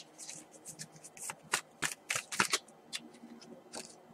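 A tarot card deck is cut and shuffled close by, giving soft riffling flutters and crisp card snaps in uneven bursts at a quiet level.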